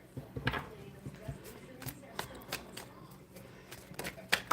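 Tarot cards shuffled close by in soft, uneven flicks and riffles, with brief sharp card snaps scattered through, fairly quiet under a low background.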